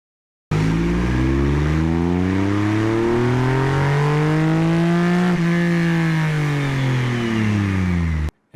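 A Triumph Rocket 3 motorcycle on a dyno run revs up in one long, loud, close pull, the engine note climbing steadily to a peak, easing briefly, then pulling again before cutting off abruptly.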